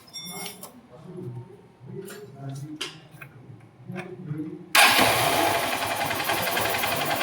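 A Honda Unicorn motorcycle with an RPM problem is started partway through and then runs steadily and loudly close by, after a stretch of talk.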